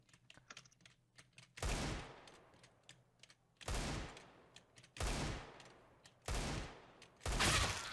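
Desert Eagle pistol shots in CS:GO come as four or five loud, sharp blasts spaced a second or two apart. Each has a short tail, with quick keyboard clicks in the gaps between them.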